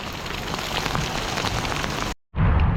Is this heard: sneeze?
no